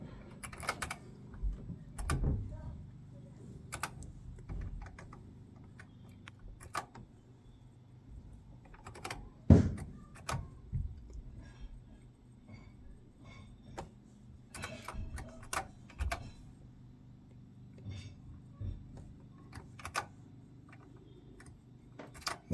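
Someone types on a TRS-80 computer keyboard while entering BASIC code, with close, clacky keystrokes in irregular bursts and short pauses over a steady low hum, and no talking.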